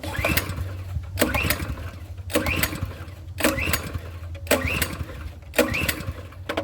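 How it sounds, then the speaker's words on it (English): Repeated pull-starting of a pressure washer engine with the choke on, five or six rhythmic rasping recoil pulls about a second apart, each a whirring rip that fails to catch, heard close and loud. "But that's open, the choke is on, give it a couple of pulls."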